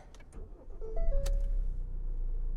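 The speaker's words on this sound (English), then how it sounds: "We'll start the car up." A Ford Transit Custom van's engine starting with a key turn, preceded by faint clicks and a short rising whine, then settling into a low, steady idle rumble, heard close from inside the cab.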